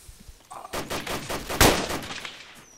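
Burst of machine gun fire in the military game Arma II, a rapid rattling run of shots building to one sharp, loud crack, then a trailing echo.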